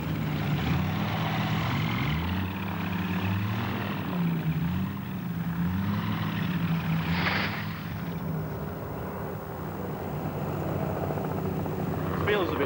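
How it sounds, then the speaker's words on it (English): A microlight aircraft's engine and propeller drone steadily in flight over the Windermere to Ingleborough rally route, a close, continuous buzzing hum with slight pitch wavering, with voices talking over it. "His passenger is having his first ride in a microlight."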